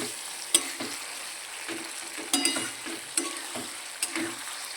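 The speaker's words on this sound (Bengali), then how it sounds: "মাখনের সাথে সাথে এটা" Paneer frying in butter in a pan for palak paneer, giving a steady sizzle with a few sharp clinks of stirring. It sounds close and moderately loud, with no talk.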